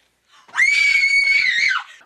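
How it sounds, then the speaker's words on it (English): A person lets out one loud, sustained high-pitched scream lasting over a second, rising sharply and then falling off into silence. "Stop screaming."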